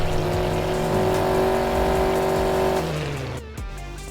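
A car engine roars loudly and steadily at high revs during a stunt on a road, with a sustained droning tone that drops off near the end before the engine settles to a lower rumble.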